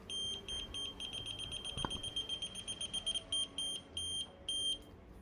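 A TopTes PT199 combustible gas leak detector sounds its audible alarm, a faint run of rapid electronic beeps that slow into longer spaced pulses, with a brief clack partway through.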